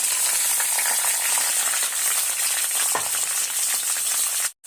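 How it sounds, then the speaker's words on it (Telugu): Ivy gourd pieces with green chillies frying in oil, a steady close sizzle throughout with a faint stir or clink near the end. "ఈ దొండకాయ ముక్కలు వేయించుకుందాం."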